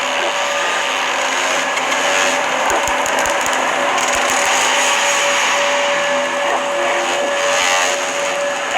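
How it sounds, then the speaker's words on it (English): Dense, buzzing synthetic drone with steady tones and bursts of rapid clicks, growing busier toward the end, like a sonified chirp of black hole gravitational waves. "The sound you're hearing is a light black hole banging on space each time it gets close."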